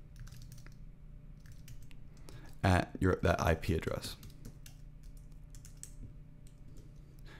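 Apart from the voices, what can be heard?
typing on a computer keyboard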